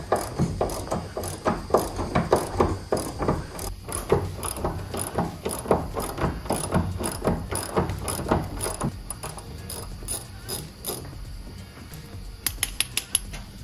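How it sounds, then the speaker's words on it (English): Socket ratchet clicking steadily as it undoes the axle nuts on a 1983 Mk1 VW Golf GTi, a dense run of rapid metallic ratcheting close up, with a few sharper clicks near the end. "Let's get a socket on there."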